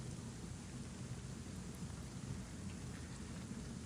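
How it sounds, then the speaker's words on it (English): Steady, dense rainfall in a video game pours down continuously and fairly loudly, an even wash of drops with no gaps and no talking. "the rain and mud is starting to kind of pour in a bit"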